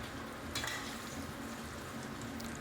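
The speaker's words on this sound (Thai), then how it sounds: "เราจะผัดจนกว่าเครื่องในไก่และไก่จะเริ่มสุกก่อนครับ" Chicken and giblets stir-fry in a small, shallow shabu pot with a soft, steady sizzle, interrupted by a brief scrape of stirring, quiet and close with no talk.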